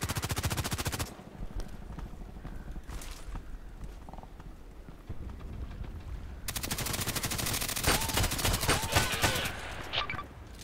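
RFB rifle gunshots in the video game Contract Wars on the Terminal 2 map, dense rapid bursts of loud automatic fire broken by a quieter pause, with a faint voice underneath.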